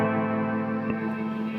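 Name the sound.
guitar reverb from PedalPCB Spirit Box DIY pedal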